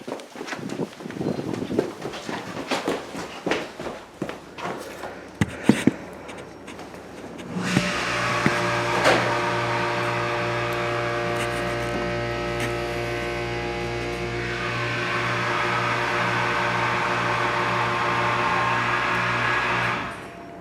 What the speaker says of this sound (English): It's also relay controlled, so we'll send the elevator back up.